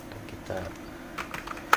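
A few scattered keystrokes tapped on a computer keyboard, light clicks spread over a short moment, with a voice talking over them.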